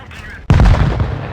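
Gunfire crossfire in a video game erupts suddenly after a quiet moment, a loud booming burst followed by a dense spread of rapid shots and blasts.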